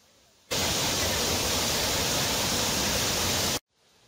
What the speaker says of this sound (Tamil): இந்த ஃபால்ஸ் சத்தத்தை கேட்கும் போதே சூப்பராக இருக்கும்.